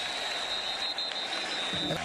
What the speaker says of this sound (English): Listen to this crowd on 3rd and 3.